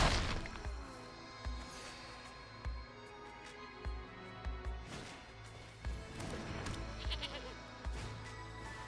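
Goats in the MTG Arena card game bleat repeatedly, a series of nasal bleats over a musical background with several sharp thuds and impact hits between them.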